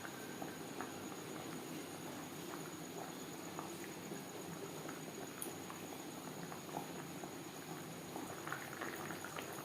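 Hilsa fish simmers in a gravy with potato and eggplant, a faint, steady bubbling with soft scattered pops throughout.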